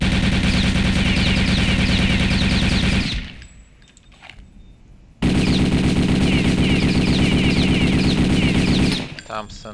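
Long, sustained bursts of MP40 submachine gun fire from the video game Return to Castle Wolfenstein, loud and rapid, broken by a short pause before a second full burst.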